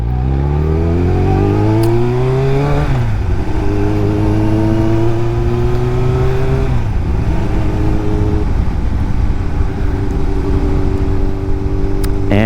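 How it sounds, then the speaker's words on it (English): A Kawasaki ZX7R motorcycle being ridden, its loud close engine revving up through the gears with rising pitch, dipping at each shift, then holding a steady high drone. "I have been really enjoying riding this motorcycle since it's been finished"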